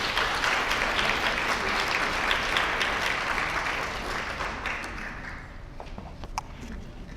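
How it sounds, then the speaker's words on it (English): Sustained applause from an audience welcoming a guest speaker at a literacy program talk, dense and steady at first, then thinning and tapering off toward the end. "let's give a round of applause to our wonderful guest speaker, Linda Friedlaender"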